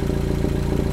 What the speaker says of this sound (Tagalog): Naririnig nyo naman siguro yung tunog ng tambucho natin, di ba?